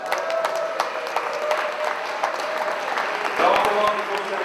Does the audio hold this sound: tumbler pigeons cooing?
no